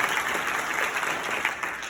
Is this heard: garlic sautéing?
no